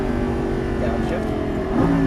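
Lamborghini Gallardo LP550-2 on a race track, its engine holding a steady drone before a quick pitch jump near the end as it downshifts, heard under a talking voice.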